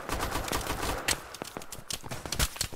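Rapid gunfire in a video game, a dense run of sharp cracks and bursts at close range, loud and irregular, with no talk over it.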